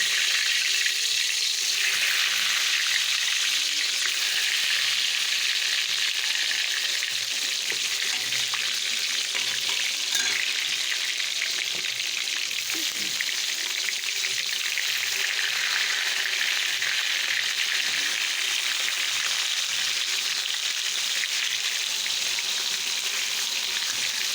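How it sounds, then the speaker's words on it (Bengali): Eggplant slices frying in hot oil in a wok make a loud, dense, continuous sizzle that holds steady throughout, with no voices. "চলো বেগুনটা আগে ভেজে নিই"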